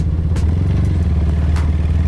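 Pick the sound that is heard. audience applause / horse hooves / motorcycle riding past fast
motorcycle riding past fast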